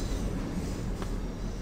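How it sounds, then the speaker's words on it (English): A small electric train with a single pantograph raised brakes in the SimRail railway simulator game, giving a continuous rumbling rail noise with a faint squeal, steady and fairly loud without talk. "What the heck is that? Are those the brakes?"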